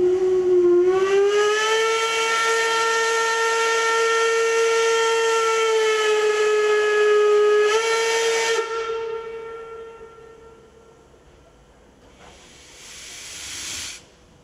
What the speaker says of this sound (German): Der Kleine da auf den Schultern seines Vaters scheint zu ahnen, mit welcher Geräuschkulisse sich der Dampfzug in Bewegung setzen wird.